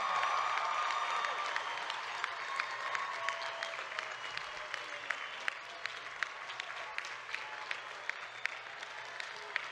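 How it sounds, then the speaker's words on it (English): Broad, sustained applause for graduates at a college commencement ceremony, a large crowd clapping as a continuous wash with a few sharper individual claps standing out as it gradually thins. "let's give a round of applause for all of our graduates"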